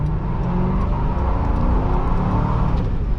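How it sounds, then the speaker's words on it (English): A Ford Crown Victoria launching hard off the line with its rear wheels spinning, a loud, continuous engine roar and tire noise that stays steady and close throughout. "Well, that was all wheel spin right there."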